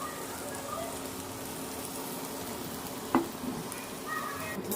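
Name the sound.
gravy added to hot oil with onion and garlic, sizzling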